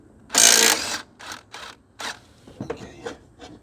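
A 9/16 impact wrench works the blade bolt on a Murray 22-inch push mower, model 22526x92a: one loud, sustained rattling burst, then three short bursts close together, ending in a few light clicks and metallic handling.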